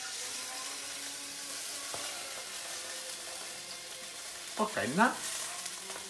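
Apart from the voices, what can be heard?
hot sausage browning in a pan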